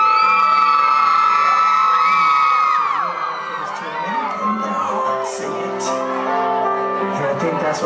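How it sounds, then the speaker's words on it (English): Concert crowd at a show cheers, whoops and shouts loudly as the band comes out, with high excited screams and voices layered over a dense roar that stays strong throughout. "make sure you give them a big round of applause when they come out"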